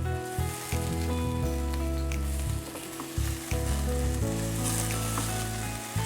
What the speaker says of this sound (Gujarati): શાકને હલાવી લઈએ। શાકને આ રીતે આપણે થોડું ઉપર નીચે કરીશું।